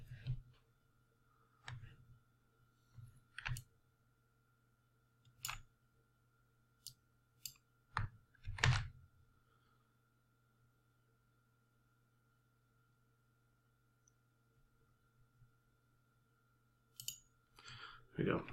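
Computer mouse clicking during 3D modeling work, sharp isolated clicks scattered irregularly, some single and some in quick pairs, close and quiet over a faint steady hum.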